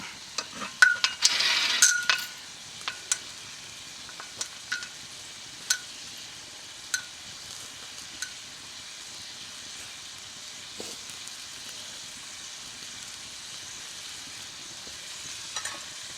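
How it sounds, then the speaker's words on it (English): Steady sizzling from a frying pan of salmon over a campfire, with a few scraping, clattering knocks as coals are moved near the start, then a run of sharp, sparse clicks over the constant hiss. "moving the coals around for cooking a salmon works"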